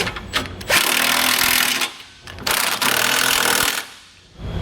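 A power tool with an 18mm socket tightens trailer hitch bolts on a 2019 Ford Transit Connect, rattling hard in two loud, sustained bursts separated by short pauses.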